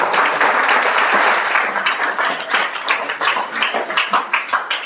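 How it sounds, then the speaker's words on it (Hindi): Students in a physics class clap together in a loud, close burst of applause that thins toward the end into separate, rhythmic handclaps. "बजाओ ताली।"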